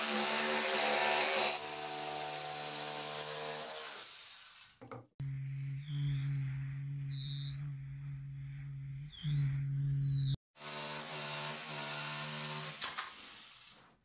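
Power saw cutting MDF wood boards, a sustained motor whine that pauses briefly, then returns with the pitch bending up and down under load before settling to a steady hum again.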